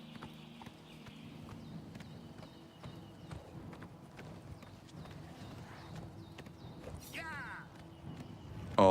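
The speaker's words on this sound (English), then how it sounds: "I really need to figure out how to control the horse better." Horse hooves clip-clopping in the video game Oblivion Remastered, a steady rhythmic series of hoofbeats under soft game music, with a brief louder sound at the very end.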